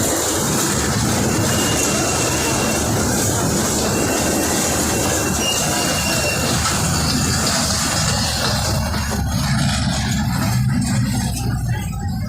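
Passenger train running toward Rajshahi station, its wheels clattering and squealing on the rails in a dense, continuous rumble heard from on board, fading somewhat toward the end.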